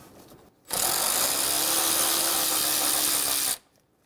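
A power tool fitted with a 10 mm socket spins out a radiator fan shroud bolt on a 2.7L four-cylinder Toyota Tacoma, giving one loud, steady whir of about three seconds, close by and alone.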